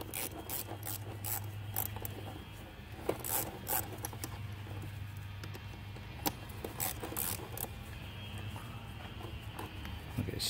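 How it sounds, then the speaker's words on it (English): A tool works the hose clamp on a Cadillac XT5 during a thermostat replacement, giving a string of small clicking and ratcheting taps over a steady background hum. "And then now I can loose up the hose clamp. It's 8mm."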